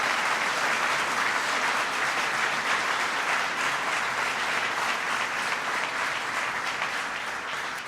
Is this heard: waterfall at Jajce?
no